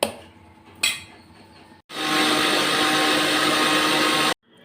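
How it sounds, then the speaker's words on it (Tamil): A mixer grinder roars loudly for a couple of seconds of steady blending of milk cream in a mixie jar, then cuts off abruptly, after a few short clinks and bumps. "இது பார்த்திங்கன்னா பால் ஏடு நான் போட்டு மிக்ஸி ஜாரில் போட்டு நான் அடிக்க போகிறேன்"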